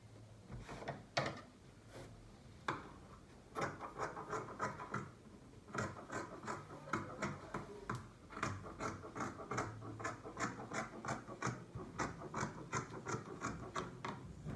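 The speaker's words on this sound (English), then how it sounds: "I'll place this on my fabric again to cut another sleeve." Scissors cutting through fabric for a sleeve, a steady series of crisp snipping and crunching cuts close by, repeating in a fairly regular rhythm with no talk.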